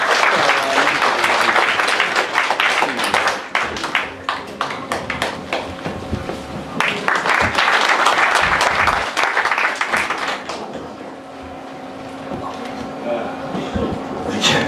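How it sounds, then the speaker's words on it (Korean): A large crowd claps loudly and continuously at a Daejeon political party founding ceremony, welcoming a party leader; the dense applause persists throughout and eases slightly toward the end. "여러분 큰 박수로 환영해 주시기 바랍니다"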